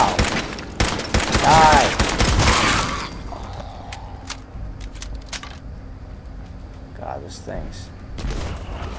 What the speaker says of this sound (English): Using a rifle now.